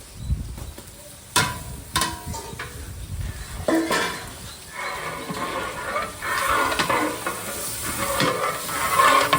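Onions frying in oil, then ginger-garlic paste stirred in, for a 20 kg batch of mutton biryani at a catering kitchen; a large pot sizzles steadily while a ladle scrapes and stirs in uneven bursts.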